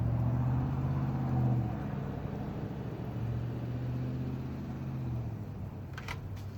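A city vehicle's engine drones steadily close by during a cold, windy blizzard in Belleville, a low continuous rumble that swells early and then holds at an even level.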